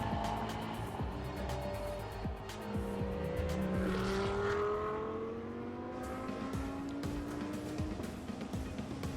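Audi R8 LMS GT3 and other GT race cars roar past on Sepang circuit, engines rising and falling in pitch through gear changes, loud and close throughout with overlapping passes.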